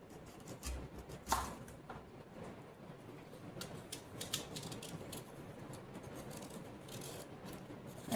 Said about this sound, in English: I'm going to cut up my apple.